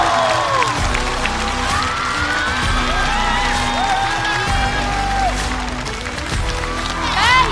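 Studio audience at a Chinese stand-up comedy show cheers and applauds loudly and continuously, with whoops rising over the clapping and a host's voice speaking through it.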